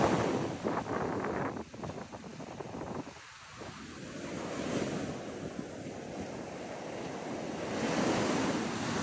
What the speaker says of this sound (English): We can go ahead and take a listen to the waves, but it also was really windy this day.